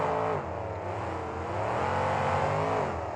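RC monster trucks named Loud Pedal and Before It Breaks race at a 2004 KORR Monsters event in New Orleans, a continuous whining engine drone rising and falling in pitch as they accelerate, heard alone without talk.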